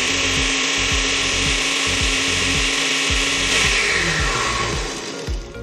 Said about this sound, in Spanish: Y nada más, licuamos.